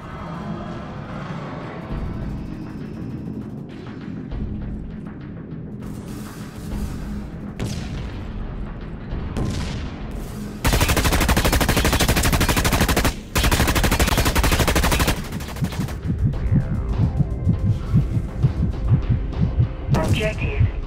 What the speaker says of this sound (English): Null cannon targeting hostile MCC.